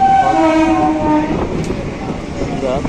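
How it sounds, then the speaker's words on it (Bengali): Sealdah–Ranaghat suburban local train pulling out of Sodepur station, with steady rolling rumble and a drawn-out horn-like tone early on, close and continuous. "বন্ধুরা আমাদের ট্রেন ছেড়ে দিল সোদপুর স্টেশন থেকে।"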